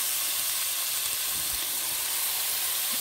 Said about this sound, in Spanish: Entonces vamos a poner en nuestra olla a sellar la carne.